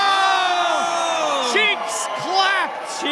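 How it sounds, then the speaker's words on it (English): A wrestling crowd roars without letup through a pro-wrestling match, a dense wall of cheers and whoops with a few shouted voices rising above it in bursts. The noise stays loud and fills the whole stretch. "The crowd is going crazy right now."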